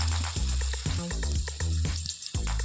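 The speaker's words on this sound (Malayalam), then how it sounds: "പിന്നെ നമുക്കിതൊന്ന് ഫ്രൈ ചെയ്തെടുക്കാം" Slices of eggplant (brinjal) fry in a pan with a steady, close sizzling hiss, while a rhythmic, pulsing tonal backing, likely music, plays underneath throughout.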